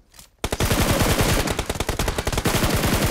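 Rapid automatic gunfire from a PUBG Mobile match rattles out in a dense, steady burst after a brief quiet start, loud and close with uneven shot rhythm, no talking.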